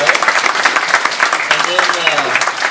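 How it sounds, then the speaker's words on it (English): Round of applause from an audience at a machinist caliper challenge awards event, a steady wash of many hands clapping close by, with voices talking over it throughout. "So everybody, give him a round of applause."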